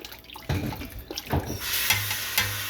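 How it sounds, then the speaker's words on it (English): Water poured into a pot while making chicken noodle soup, a steady splashing run of liquid with a few clinks, close and moderately loud, no talking. "I'm gonna put some more water."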